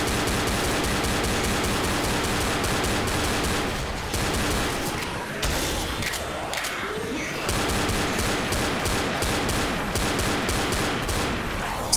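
Rapid, continuous gunfire in the zombie video game Left 4 Dead rattles on almost without pause, loud and dense, with a short lull in the middle before the shots resume.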